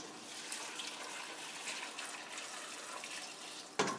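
Stock is poured into a pot for Czech svíčková gravy, a soft continuous liquid splash and trickle heard faintly and close, ending with a small clunk.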